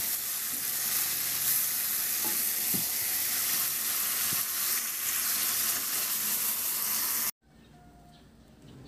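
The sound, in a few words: marinated chicken liver pan-frying and stirred in sauce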